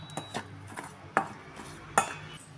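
A spoon or whisk mixing chilli powder, garam masala and turmeric into gram flour in a bowl, giving a few separate clinks and scrapes against the bowl, two of them sharper, in a quiet kitchen.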